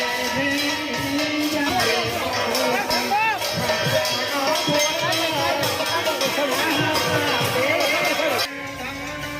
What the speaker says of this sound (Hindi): आप देखिए हर तरफ और बहुत ज़्यादा भीड़ भाड़ होती है।